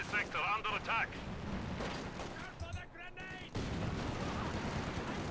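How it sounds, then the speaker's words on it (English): A grenade blast in the World War II strategy game Company of Heroes 2, with a sharp burst followed by rumbling battle noise and distant gunfire, under a voice commentating. "Relatively ineffective grenade."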